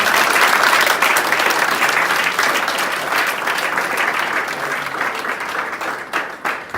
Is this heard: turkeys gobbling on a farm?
no